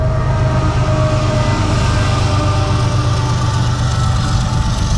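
A train rumbles past nearby, heard from inside a 2020 Jeep Gladiator as a loud, steady low roar of rolling wheels and engine drone with faint tonal whine, unbroken for the whole stretch.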